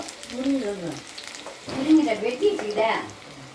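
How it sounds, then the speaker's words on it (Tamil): Chicken, onions and tomato with rock salt sizzle and fry in oil in a pan, a low crackle that rises as they are stirred, heard up close. "கல் உப்பு சேர்த்து இது நல்லா வதங்க விடுவோம்."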